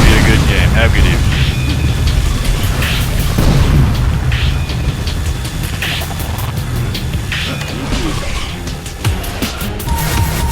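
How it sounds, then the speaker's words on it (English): In Unreal Tournament 3, the blue team's core blows up with a loud, continuous rumbling roar and repeated booming bursts, nearly eleven seconds long and dense throughout. "Blue core destroyed."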